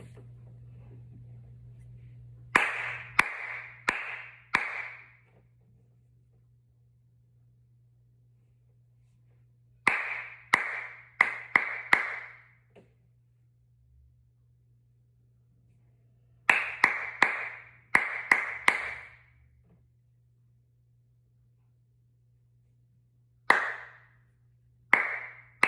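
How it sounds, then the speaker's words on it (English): One person claps rhythmic patterns with bare hands in a quiet room, short groups of sharp, close claps separated by pauses, over a faint steady low hum. "I'm going to do the same rhythms. I'm going to clap them"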